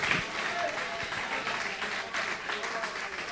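Church congregation clapping together during a Portuguese-language sermon, a steady, dense wash of applause running throughout, with faint speech-like sounds underneath.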